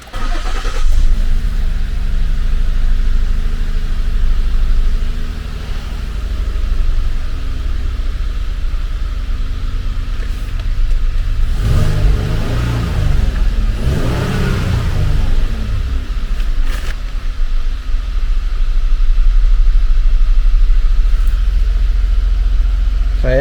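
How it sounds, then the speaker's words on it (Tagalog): Ford Explorer engine running smoothly after a fuel injector and throttle body replacement and throttle relearn, a steady close idle hum with a brief swell partway through, no voices. "Pakita ko sa inyo kung gaano ka-smooth na yung tunog ng makina."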